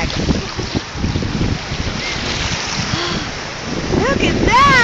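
Ocean surf and gusting wind at Clearwater Beach, Florida, roar against the microphone in uneven bursts, with people's voices and a child's calls rising toward the end.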